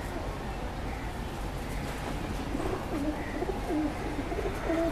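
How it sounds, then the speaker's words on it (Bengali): Pigeons coo at a farm keeping many kinds of pigeons, a series of soft, rolling coos rising and falling near the listener over a steady background murmur. "ওনার এখানে অনেক রকম কবুতর আছে"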